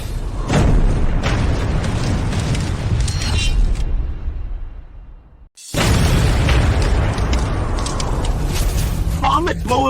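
A loud explosion blast in a dramatic fantasy scene, with a heavy booming roar and rumble that cuts out briefly before a second burst, over a cinematic score.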